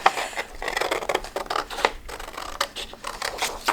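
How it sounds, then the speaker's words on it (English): Scissors cutting by hand around a paper planner page, a close run of quick crisp snips and rustling paper over a few seconds. "So I just go around the page with my scissors and cut it out."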